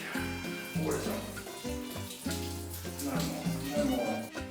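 A shower runs steadily with a wash of rushing water while a dog is bathed at a campsite in Argentina, and a person talks over it with music.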